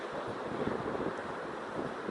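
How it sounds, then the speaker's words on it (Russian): Stormy sea waves breaking on the shore at Zelenogradsk with strong wind, a steady broadband roar of surf and gusts buffeting the microphone, continuous and fairly loud with no clear pauses. "Волны большие. Волны очень большие"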